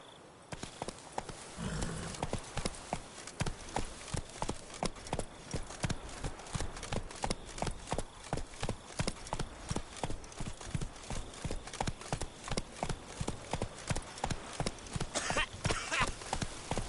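Roach the horse galloping in the video game The Witcher 3, with steady, rhythmic hoofbeats that continue without a break, close and clear, and no talking.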